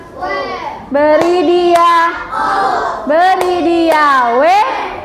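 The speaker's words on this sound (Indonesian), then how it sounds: "Kita kasih dulu tepuk apresiasi bersama-sama ya." A fourth-grade elementary class gives a group appreciation clap, loud chanted children's voices punctuated by a few sharp, close handclaps.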